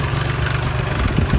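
A farm tractor engine runs with a steady low throbbing rumble, loud and close, rising slightly toward the end, with no talking.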